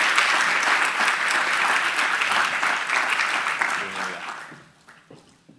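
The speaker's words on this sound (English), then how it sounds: "Please, a round of applause." Audience applause fills a lecture hall at a Latin American business summit at Oxford University, a dense steady clapping that fades away near the end.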